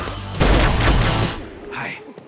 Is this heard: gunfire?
yes